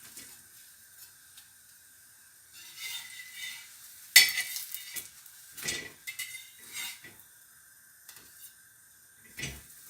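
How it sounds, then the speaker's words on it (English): Mexican wrap frying in about half a spoon of oil in a frying pan, a faint soft sizzle broken by scraping and clinking of a utensil against the pan, with quiet gaps between the louder handling sounds. "This is the second one I'm frying."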